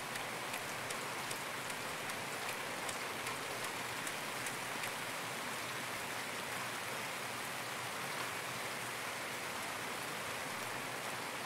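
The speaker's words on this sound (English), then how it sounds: "and it's starting to rain quite heavily now." Heavy rain falls steadily in Escape From Tarkov, a dense, even hiss of drops that never lets up and carries on alone without any voices.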